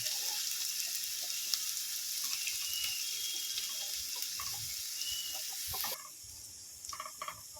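Onions frying lightly in a pan for egg chop, a steady bright sizzle with scattered pops and crackles that drops abruptly in volume near the end, leaving softer spits.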